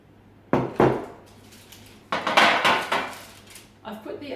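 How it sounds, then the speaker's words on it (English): Teaspoons clink and scrape against a metal baking tray while a wet cinnamon cookie mixture is scooped out, giving a few loud, close knocks in two clusters, with a softer clatter at the end. "So I'm just going to use 2 teaspoons."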